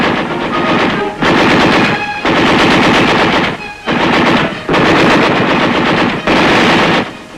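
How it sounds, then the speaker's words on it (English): Sustained bursts of machine gun fire in combat, loud and close, rattling in long strings separated by brief pauses, with no voices. "The enemy fire is returned by our forces with devastating effect."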